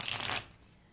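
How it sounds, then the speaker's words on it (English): Linen-finish tarot cards are shuffled up close in a quick, dense riffle of papery flutters that stops abruptly after under half a second, leaving quiet room tone. "The cards shuffle like a dream"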